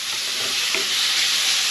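Bacon browning in a frying pan over a gas flame, a steady broad sizzle and hiss with faint stirring scrapes, close and continuous.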